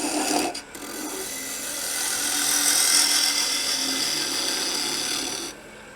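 Wood on a lathe cut by a gouge while shaping a scoop, a steady loud rasping hiss that swells and holds for several seconds before cutting off abruptly.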